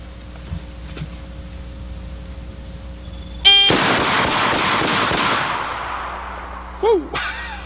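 Ruger handgun fired outdoors at dusk, a sudden rapid string of about seven close, loud shots that ring out and decay, followed by a brief voice.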